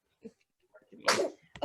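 A single sudden sneeze from a baby with reflux bursts out close by, preceded by soft scattered sounds and a brief voice.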